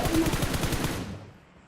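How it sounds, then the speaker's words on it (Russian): Rapid burst of gunfire in the mobile battle royale game PUBG Mobile, a fast rattling volley of loud shots that fades out with a trailing echo. "Это по мне был выстрел."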